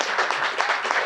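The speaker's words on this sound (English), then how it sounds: "Give them a round of applause." A conference audience breaks into brief, lively applause, many hands clapping close together at a steady volume.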